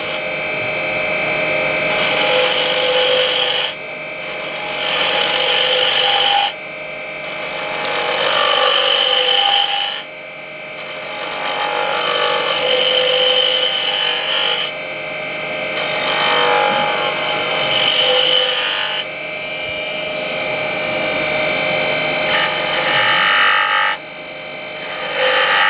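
A skew chisel scrapes and cuts wood on a spinning lathe in repeated loud passes of several seconds each, separated by brief gaps, with a harsh rasping texture and no talking.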